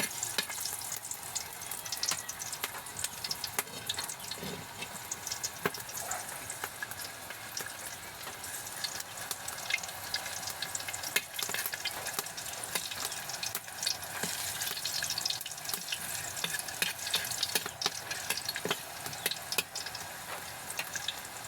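Garlic sautéing in a pan gives a steady, crackling sizzle that runs continuously with faint stirring, close and unbroken, with no talking.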